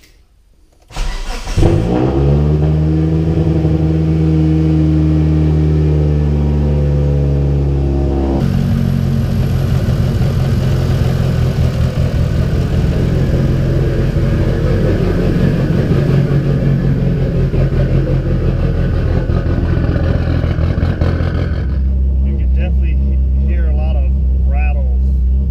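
A Mitsubishi Evo engine cranks and starts, then settles into a loud, steady running drone that changes pitch midway as the revs rise. It runs on for about twenty seconds before easing off near the end.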